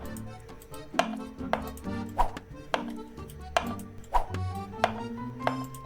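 A kitchen knife cuts onions into quarters, and each stroke lands on a board as a sharp tap in an uneven series of about a dozen clear hits, close and alone.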